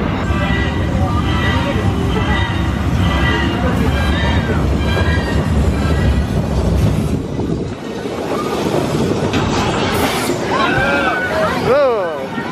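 A studio tour tram at Universal Studios Hollywood rumbles steadily along with wind buffeting the microphone and a crowd murmuring, before the noise drops off and some squealing tones rise near the end.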